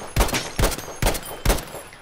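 Video game gunfire: four loud, evenly spaced bursts of shots about half a second apart, close and punchy, with no talk.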